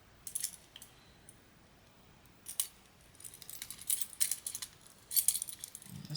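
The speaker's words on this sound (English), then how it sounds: "let's go ahead and try to get these other keys off of here" Keys being worked off a KeySmart Rugged key organizer give faint, close metallic clicks and jingles in short scattered bursts over quiet background.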